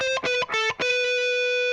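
Distorted electric guitar plays a few quick stabbed notes of a pentatonic lick with a flat fifth from a song's solo, then rings out on one long sustained tone, loud and with no other sound.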